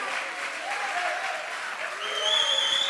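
A church congregation claps steadily, a dense wash of applause at moderate distance, with a few faint voices and a brief tone rising above it near the end.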